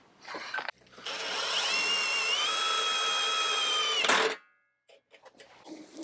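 A handheld power drill drives tech screws into a Jeep XJ to mount rear hitch winch wiring, a steady close whine running about three seconds and stopping abruptly, with brief handling noises on either side.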